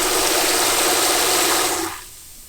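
Water with antifreeze solution runs from an RV tap while the system is winterized, a steady loud gushing rush that cuts off sharply near the end and leaves a faint hiss.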